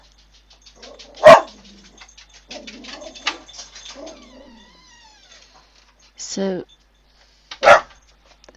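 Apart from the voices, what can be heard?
dog barking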